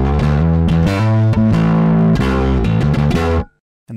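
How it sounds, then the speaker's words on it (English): A bass guitar played through the distortion channel of an EBS Fafner II amp, loud, gritty chugging notes in a driving rhythm, then stopping abruptly into silence near the end. "you'll hear just the distortion channel."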